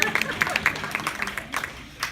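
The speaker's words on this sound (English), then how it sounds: "You can clap." A seated audience breaks into uneven, moderately loud clapping during a talk, the individual claps distinct and close, with some crowd noise underneath.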